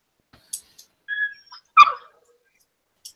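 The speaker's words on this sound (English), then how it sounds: "As my dog barks." A pet dog gives a few short, close barks and yips with brief whimpering between them, sparse and alone in an otherwise quiet room.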